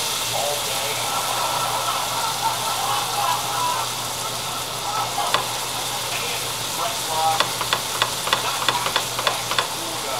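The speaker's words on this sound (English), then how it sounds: "just keep stirring it so it won't be lumpy" A spoon stirs flour into pan drippings for curry chicken, with a steady sizzling, frying hiss and scraping throughout and small clicks near the end.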